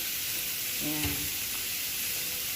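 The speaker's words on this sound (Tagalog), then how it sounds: "Tanggalin natin para magigisa na tayo ng sibuyas." Onions sautéing in a dry pan, a continuous sizzling hiss with a brief stir or clink near the middle and no talk.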